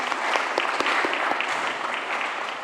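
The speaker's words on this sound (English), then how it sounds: "Give a round of applause for everyone." An audience in the Clancy venue applauds the commencing UNSW students of 2024, a steady wash of many clapping hands at moderate distance with distinct individual claps standing out, with no talking over it.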